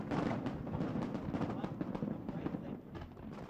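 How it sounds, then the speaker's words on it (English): Fireworks burst over Hong Kong at the 1997 handover in a dense, continuous crackle and boom of distant explosions. A faint murmur of voices is mixed in. "And then the skies exploded with noise and colour."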